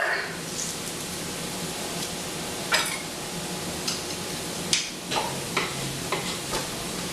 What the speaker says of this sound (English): So now I'm going to add the garlic.